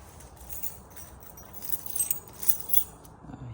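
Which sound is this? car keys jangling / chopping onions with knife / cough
car keys jangling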